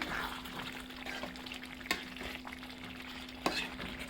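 A spoon stirs thick chicken gravy in a pan, with the gravy softly sizzling throughout. Two sharp scrapes stand out against the steady frying hiss, and nobody speaks.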